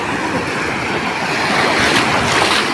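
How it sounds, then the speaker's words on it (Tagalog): Surf at Morong beach rolls and crashes in a continuous loud roar, with wind buffeting the microphone and the waves swelling louder toward the end. "Ngayon ang alon!"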